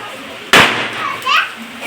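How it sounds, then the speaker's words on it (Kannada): A single sharp, loud firecracker bang bursts out during Diwali celebrations at home in the rain, followed by children's voices chattering and playing nearby. "ಮಳೆಲೂ ಪಟಾಕಿ ಹೊಡಿತಾ ಇದ್ದೀವಿ."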